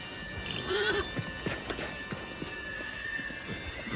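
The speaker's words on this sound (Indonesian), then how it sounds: "Ini ada kuda." A horse seen at an animal park gives off soft clip-clop and snorting sounds, scattered brief knocks over a steady background murmur, with a faint whinny-like tone near the start.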